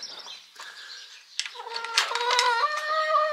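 Hens in a morning coop give soft clucks and rising, tonal calls, starting faint and sparse, then swelling into a busier, louder chorus of overlapping squawks.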